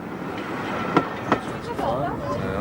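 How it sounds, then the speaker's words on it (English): The Flying Scotsman steam locomotive runs on rails with a steady rolling rumble and two sharp clanks, moderately loud, while people talk faintly nearby. "I'm recording the sound of the locomotive."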